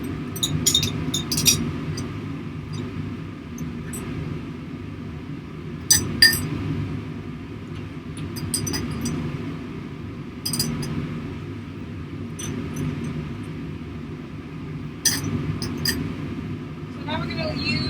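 Glass test tubes clink sharply and intermittently in a chemistry lab while being rinsed out, scattered bright clinks over a steady background hum.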